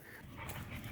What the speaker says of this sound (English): the joys of dogs playing and the sunset